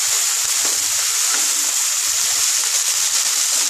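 Red spinach frying in a pan while being stirred, a loud continuous close hiss with a few soft scrapes and no voices.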